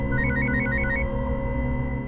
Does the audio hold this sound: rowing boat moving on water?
no